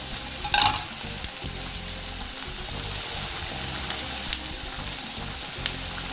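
Peppers charring in a hot pan give a steady, moderate sizzle with occasional crackles and a few scraping knocks, one louder spatter early on.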